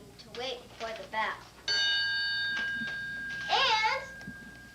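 A bell chime from a 1991 computer-like homework device: a single sustained ringing tone that rings out for about two seconds, with a voice talking before and after it.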